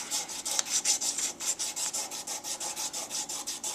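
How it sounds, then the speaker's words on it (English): Emery cloth is rubbed back and forth over a metal ball crank handle in fast, even strokes, close up and steady, with each pass a bright scratchy rasp. "I'm back to using emery cloth now"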